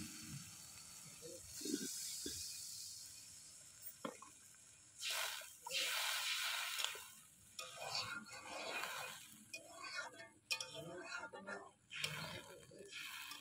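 Water goes into fried spice paste for a mustard-poppy prawn curry, bringing bursts of hissing sizzle with wet stirring and squishing. Quieter stretches of stirring fall between the bursts, and faint voices may be present.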